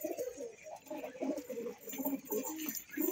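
A female Kolkata bloodline Madrasi pigeon coos in soft, repeated low bursts, close and fairly faint, with light background rustle.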